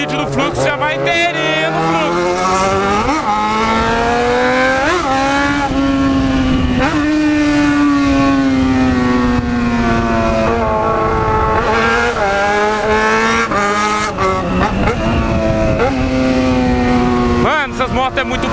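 Two Yamaha XJ6 motorcycles rev and whine loudly up close while racing, pitches rising and falling as they accelerate, with a voice talking over them.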